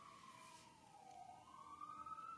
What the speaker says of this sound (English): I apologize for the sirens outside